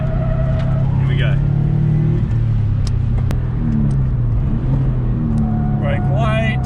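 A Subaru WRX engine revs and strains as it accelerates on a race track, loud and close, with a constant roar throughout and a few tire squeals near the start and end.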